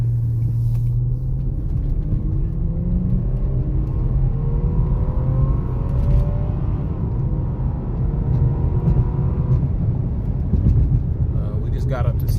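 A Lexus GS 300 drives and accelerates from a cold start, its steady engine rumble rising in rising harmonic sweeps as it gains speed, loud and constant with road noise throughout.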